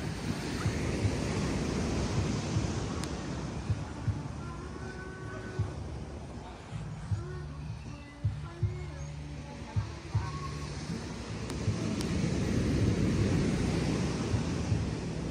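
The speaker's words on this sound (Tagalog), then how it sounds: "Kasi yung lakas-lakas ng alon." Strong surf breaks steadily on a white-sand beach at Boracay, a constant close roar of crashing waves mixed with wind buffeting the microphone, with faint voices murmuring underneath midway.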